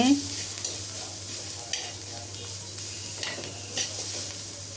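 Onions, cut into large rings, fry in a pan, with a soft steady sizzle, occasional faint clinks of a utensil, and a constant low hum underneath.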